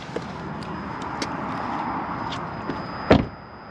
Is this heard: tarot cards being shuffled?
no